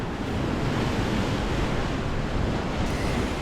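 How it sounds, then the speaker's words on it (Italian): Sea surf pounds the shore under a strong wind whipping foam off the waves, a loud steady roar of breaking water and gusting wind noise throughout with no pauses. "Il vento ora è così forte che solleva la schiuma dalle onde, creando un effetto meraviglioso."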